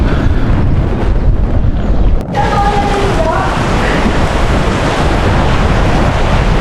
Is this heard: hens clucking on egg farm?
no